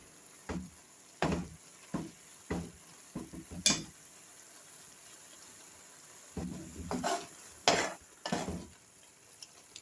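Grated carrots roasting in desi ghee in a pan for gajar ka halwa, heard as bursts of stirring and scraping with soft sizzling, clustered strokes early and again later with quiet gaps between.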